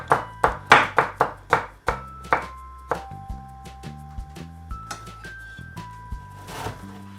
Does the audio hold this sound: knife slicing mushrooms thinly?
yes